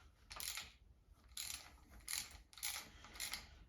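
A hand ratchet with a 9/16 swivel socket turning out bolts on a locked-up 307 engine during teardown: four short bursts of quiet clicking, spaced about a second apart, close up with no talking.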